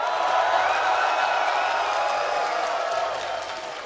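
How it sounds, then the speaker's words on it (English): A large esports arena crowd at a regional finals match roars and chants for Team Solo Mid, a loud, dense wall of cheering that stays steady before easing off toward the end. "The TSM chants continue on and drown out as they wait for the action to happen."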